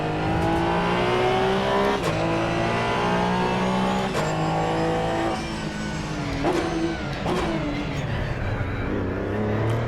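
A race car engine in the sim racing game Assetto Corsa EVO screams continuously at high revs, with repeated sharp upshifts and pitch drops every couple of seconds, loud and close with no talking.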